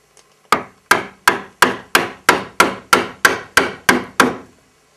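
A mortice chisel is struck about ten times in quick, even succession while chopping a mortise in wood, each blow a sharp, close woody knock that decays quickly.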